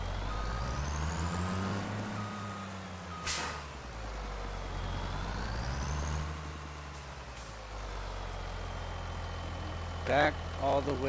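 A truck idles and shifts its engine pitch on a farm, with a long, low engine rumble throughout, a sharp hiss, and a short burst of beeping near the end. People talk faintly underneath.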